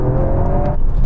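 A Mitsubishi Evo VI launches hard in a drag race against a Toyota GR Yaris, with a loud, close, deep engine roar and drivetrain whine that holds steady, then shifts in tone as the gearbox fails.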